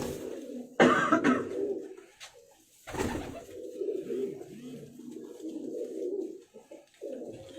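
Pigeons coo close by in soft, repeated low warbles, with a couple of louder rustling or coughing bursts breaking in between the calls.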